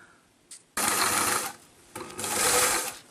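A sewing machine stitching a narrow tuck along a fabric edge runs in two steady, loud whirring bursts with a short pause between them, close up and with no voices.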